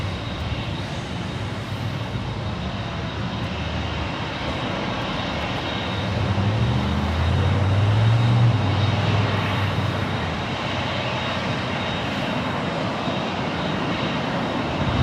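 An Airbus A310 jet at Los Angeles International Airport makes a broad, steady roar that swells in the middle and then eases, heard from a distance with constant wide-band rumble and no voices.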